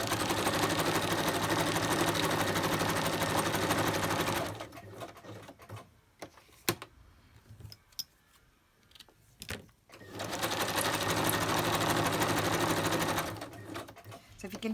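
Sewing machine stitching around paper ephemera, a loud steady whirring run, a quieter pause with clicks and handling noises, then another long continuous stitching burst.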